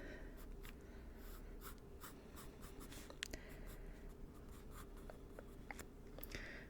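Pencil drawing a face on paper, heard as soft close scratching and sketching strokes in short repeated bursts, quiet and intimate against a faint background hiss, with no talking.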